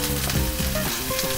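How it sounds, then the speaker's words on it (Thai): Chicken sautéing with garlic and onion in hot oil, a dense continuous sizzle with spatula scrapes, close and loud. "saute together with the garlic and the onion"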